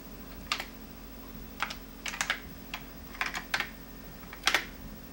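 Bursts of clicky keystrokes on a 1992 AST computer keyboard, typed in short irregular clusters with pauses between, fairly close against a faint steady hum.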